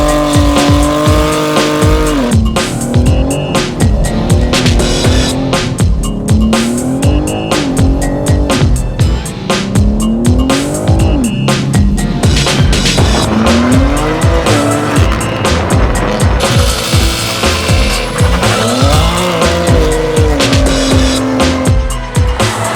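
A BMW M3 is driven aggressively through a hilly city, its engine revving hard and rising and falling through gears while tires squeal and skid repeatedly, loud and close throughout with no talk.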